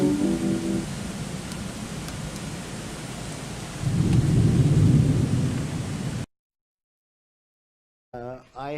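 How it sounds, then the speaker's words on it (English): Rain and thunder from a played recording: a steady hiss of rainfall with a low rumbling swell of thunder midway, then an abrupt cut to silence before a short burst of a different sound. "And here's the rain part."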